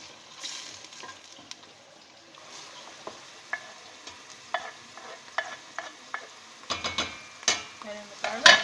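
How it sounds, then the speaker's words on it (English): Onions sauteing in olive oil in a pan, a gentle sizzle joined by a string of stirring scrapes and utensil clicks that grow busier and louder toward the end, with no talk. "now we're going to saute our onions in some oil"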